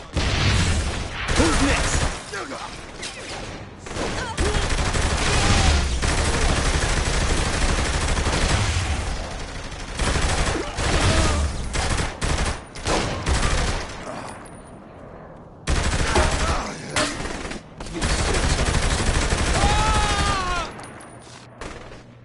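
Gunfire in a video game shootout: dense, sustained volleys and bursts of shots fill most of the stretch, loud and close, with a brief lull near the end, while voices talk over the shooting.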